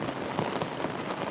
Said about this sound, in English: Look at that rain. It's freaking pouring.